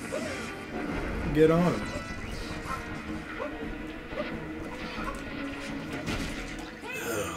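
Wet, squelching smashes on a dragon boss's brain in the video game Super Mario Odyssey, a loud splattering crash under busy game noise and excited talk.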